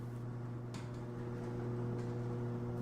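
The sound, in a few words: garage door opening with a whirring noise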